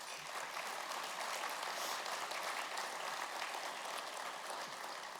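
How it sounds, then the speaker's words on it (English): Audience at an energy summit giving a round of applause, dense steady clapping from many hands throughout, moderately distant and even in level. "Let's give a big round of applause for all of our sponsors and co-hosts today."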